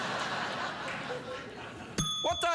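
A bell on a late-night talk show set is pressed once, giving a bright, sharp ding near the end after a stretch of background murmur, followed by brief chuckling from people nearby.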